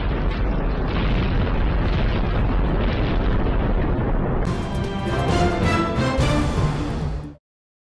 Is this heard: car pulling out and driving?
no